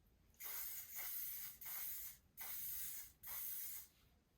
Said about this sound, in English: Hairspray will always prolong it, so I just like to put a little bit of spray through the ends.